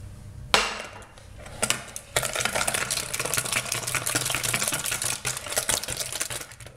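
Eggs whisked with cane sugar, a little white sugar and vanilla extract in a bowl, giving a close, fast, continuous rattling of whisk against bowl after a few sharp knocks at the start.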